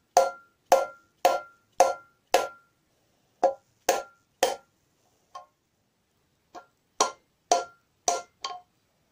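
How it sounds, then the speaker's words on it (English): A hammer drives a motorcycle wheel bearing into its hub with sharp metallic blows in a quick run of five, a pause, further strikes and a few lighter taps, then another rapid run, loud and close. "You can feel it stops yielding to the blow, and just, you know, the tone of the hammer blow changes"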